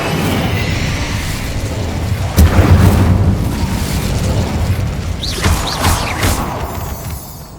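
A fire spell cast in Hogwarts Legacy bursts with a sharp booming whoosh, followed by a sustained rumbling roar and a few crackling flares that fade out.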